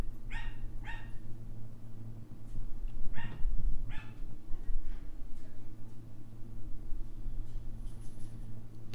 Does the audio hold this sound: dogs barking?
yes